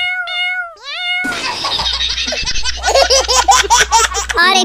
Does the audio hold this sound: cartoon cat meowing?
yes